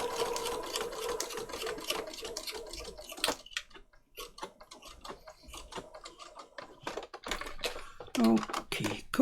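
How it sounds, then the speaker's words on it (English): A sewing machine lock-stitching paper patchwork tags, heard as close, quick rattling bursts of needle clatter broken by short pauses, fairly quiet with a little faint voice in the background. "lock stitch on my machine that locks at the start and end."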